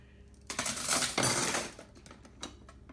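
Aluminum knitting needles dropped into a box, a quick burst of bright metallic clinks and rattles that settles into a few faint taps, close and fairly quiet, with no talk.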